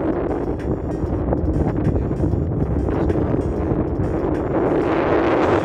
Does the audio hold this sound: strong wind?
yes